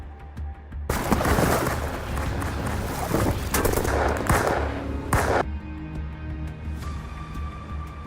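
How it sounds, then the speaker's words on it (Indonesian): In a movie scene, a loud, dense burst of gunfire crackles over a roaring rumble, with sharp cracks popping through for several seconds before fading into lingering noise. "Para musuh beberapa kali melepaskan tembakan"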